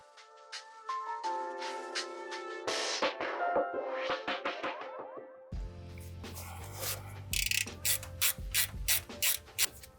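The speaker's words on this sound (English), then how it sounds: "I'm going to undo these 2 bolts that hold this brake line" Ratchet clicking as brake line bolts are undone on a Toyota Tacoma during motor mount work, with quick bursts of ratcheting, a metallic rattle of tools, then louder repeated ratchet strokes close up, no talking.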